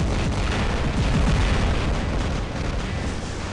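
The Wasp MK2 corrosion weapon fires in a loud, continuous stream of rapid booming bursts and crackling explosions, sustained for several seconds with no talk over it.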